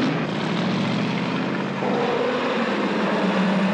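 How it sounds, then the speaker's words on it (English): A propeller airplane swings around for another takeoff, its engine droning loud and steady throughout with a low throbbing hum that shifts slightly in pitch partway through. "How long will it take that plane to swing around for another takeoff?"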